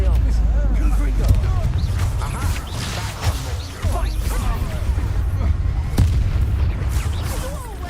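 Explosive Confringo spell blasts go off in Hogwarts Legacy during a hard-fought duel, deep booms and sharp impacts over a rumbling battle din, with character voices shouting throughout.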